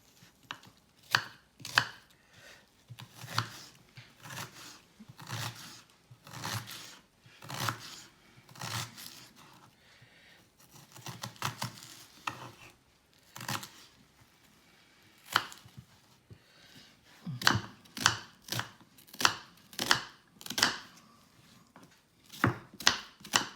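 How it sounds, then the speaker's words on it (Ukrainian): A knife dices onion into cubes on a cutting board, sounding as crisp, close taps in uneven bursts with pauses between runs and a fast flurry near the end, with no talking. "Наріжемо кубиками цибулю"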